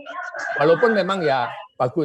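A rooster crows in the background while someone speaks Indonesian over an online meeting; the long, wavering call rises and falls under his voice, and the speech then breaks off briefly.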